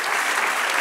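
A church congregation applauds during a sermon, a dense, steady burst of clapping heard briefly and loudly without any talking over it.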